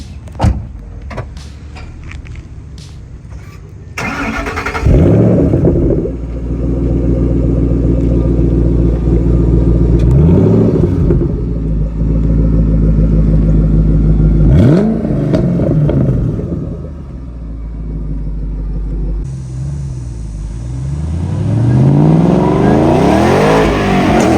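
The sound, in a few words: 2013 Ford Shelby GT500 Mustang engine revving, stock quad-tip exhaust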